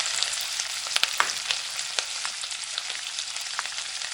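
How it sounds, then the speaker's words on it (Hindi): Potato snacks fry in oil in a pan, a loud, steady hiss and sizzle with scattered crackles and pops as more oil is poured over them. "अब ऊपर हम इस तरह ऑयल डाल देंगे।"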